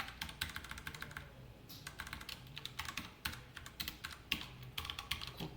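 Typing code on a computer keyboard: rapid, close keystrokes in uneven bursts with brief pauses, soft but distinct, with no talking.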